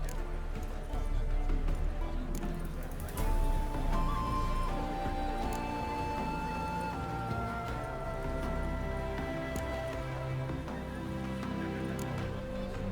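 Horse hooves clip-clopping in The Witcher 3 as saddled mounts move before a race, a steady run of moderate hoof beats heard alongside game ambience and occasional voices.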